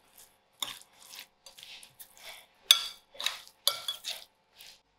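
A spoon stirs a tinned fish samosa filling with lemon juice in a bowl, giving irregular scraping and clinking taps of utensil against the bowl, close and fairly quiet with short pauses between strokes.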